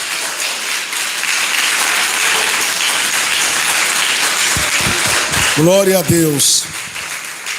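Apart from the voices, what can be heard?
congregation clapping hands in church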